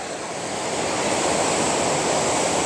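Ocean waves on the beach at Cancún make a loud, continuous broadband roar of surf with no break.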